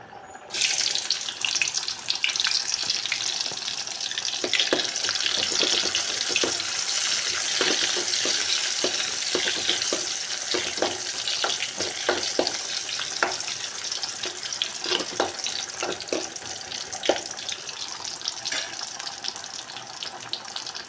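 Tempering spices with cumin crackle and sizzle in hot oil, a dense continuous frying hiss with scattered pops and occasional stirring.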